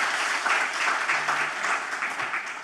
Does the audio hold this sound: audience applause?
yes